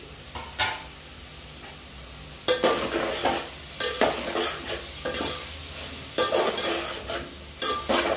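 Vegetables for veg khichdi sauté in a pan, sizzling steadily under repeated bursts of spatula stirring and scraping against the metal, close and moderately loud with no talk.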